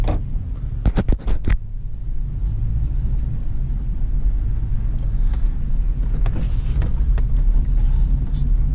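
A 1999 GMC Yukon with a swapped-in 5.3 engine and stock exhaust idles steadily, a low, even rumble that runs throughout, with a few sharp clicks and knocks near the start and light handling noises over it.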